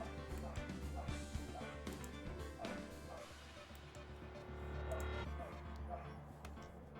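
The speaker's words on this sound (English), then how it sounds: "Apologies for the dogs today. They are being very rowdy." Dogs bark in scattered, repeated bursts somewhere in the house, faint and a little distant, with a few sharper yips over a low steady background.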